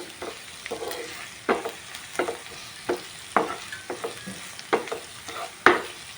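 Onions with ginger garlic paste fry in a pan as a spoon stirs them in repeated scraping strokes, roughly one or two per second, close and clear over a low sizzle, with no talking.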